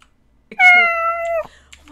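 A single loud, drawn-out cat meow from the video game Cat Simulator, close and clear, lasting about a second, with no talk over it.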